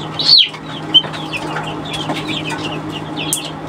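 Chicks or young chickens being sorted by sex in a backyard coop give a sharp high cheep near the start, then a short peep and faint scattered chirps over a steady low hum.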